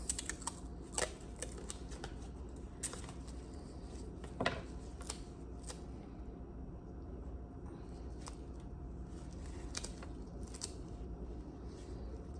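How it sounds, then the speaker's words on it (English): Tape is pulled and torn to mark a nasogastric tube, giving quiet scattered crinkles and sharp ticks, one louder snap midway, close and faint, with no speech. "I'm going to take a piece of tape just so that I know how far to go."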